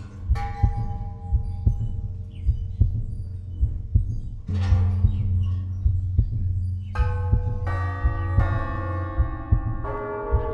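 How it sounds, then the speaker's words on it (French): Church bells toll in a slow, resonant sequence in a Macbeth audio play, layered over a deep rhythmic heartbeat-like throb, with overlapping strikes ringing out near and clear. "Les cloches sonnent."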